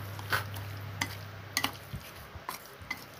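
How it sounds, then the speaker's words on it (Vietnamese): Noodles being stirred and tossed with seasonings, shallots, pepper and garlic for stir-fried Mekong Delta hu tieu, giving soft scraping and clinking hits at an irregular pace over a low steady hum, with no talk. "Nên mình trộn đều lên cho gia vị thấm nha."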